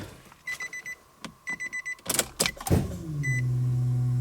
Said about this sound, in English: hope you guys don't mind the super annoying dinging